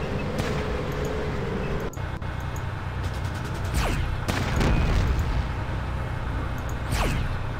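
Gunfire in the video game Fallout Tactics: a sustained loud din of shots with several sharp bursts and crackling volleys, no talking.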